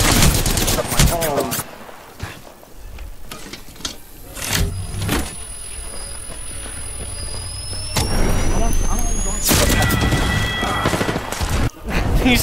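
Gunfire in a first-person shooter video game, with repeated sharp shot bursts and a loud volley near the end, heard over game sound effects and background chatter.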